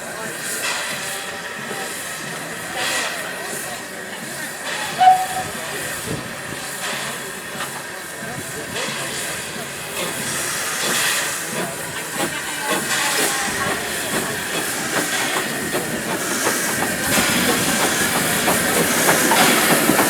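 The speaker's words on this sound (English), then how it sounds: "You can hear the Westinghouse brake going shush, shush." A small heritage steam locomotive at Bodiam on a preserved railway, its Westinghouse brake giving repeated shushing hisses under steady steam and rail noise, with faint voices nearby.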